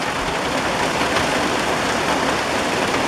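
Heavy rain from storm Debby pours down in the Finger Lakes of New York, a steady, dense, loud hiss of downpour with no let-up.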